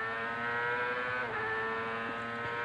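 An Indy race car on track at Laguna Seca Raceway in 2000, held as a steady, high whining engine drone with a slight pitch dip midway. It sounds fairly distant, with no talk.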